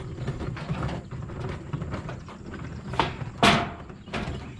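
A screwdriver pries and scrapes a barn wood metal panel into place, giving scratchy metallic rasps and a few sharper clanks and scrapes near the end, close and alone without talk.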